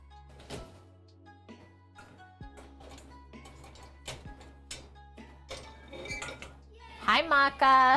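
A medium-sized cooking pot is handled in a home kitchen while brunch is prepared, with scattered metallic clinks, knocks and thunks of cookware under a steady low hum, and a voice speaking toward the end.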